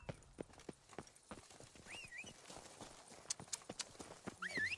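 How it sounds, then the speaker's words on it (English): Horse hooves clip-clopping in The Witcher 3: Wild Hunt, Blood and Wine expansion, a steady trotting rhythm of sharp hoof strikes with a brief whinny and game ambience around it. "Run, Roach"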